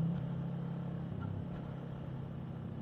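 An FKM Falcon X400 motorcycle rides in first gear, its engine a steady low rumble that holds throughout without sharp revving.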